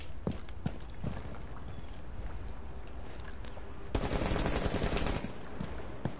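Automatic gunfire rattles in quick bursts during a weapon recoil test in the Rainbow Six Siege video game. Scattered shots give way to a louder, sustained volley near the end, with faint footsteps under it.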